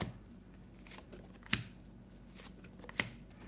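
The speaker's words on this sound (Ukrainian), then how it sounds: "давайте відкладу ті карти, які мені тут були" Quiet riffling of tarot cards, with two sharper snaps as a deck is shuffled against a soft room hiss.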